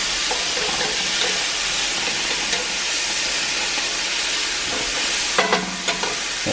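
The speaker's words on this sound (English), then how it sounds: "I'm going to go ahead and throw the garlic in there" Mushrooms and garlic frying in a cast iron pan give a steady, loud sizzle with constant hiss and a few sharper spits and crackles near the end.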